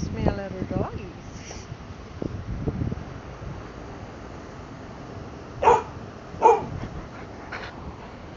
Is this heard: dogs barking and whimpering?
yes